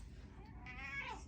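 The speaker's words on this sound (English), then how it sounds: "And that's my cat." A house cat lets out a single quiet, drawn-out meow over faint background noise, with no one talking.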